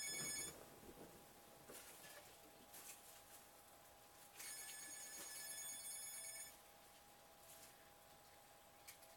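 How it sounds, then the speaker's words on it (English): Telephone ringing indoors in two bursts, a short trill at the start and a longer electronic ring midway, faint and distant under a low background hum. "that's the phone."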